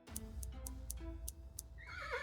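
In the point-and-click adventure game Willy Morgan and the Curse of Bone Town, a horse gives a close, clear whinny. Sharp regular ticks run under it, and brighter tones rise at the end.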